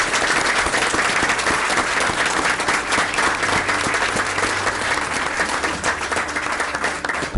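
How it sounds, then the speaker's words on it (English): Audience applause at a village board meeting, a dense, steady wash of clapping that stays loud and sustained throughout without a break. "So can we give them applause?"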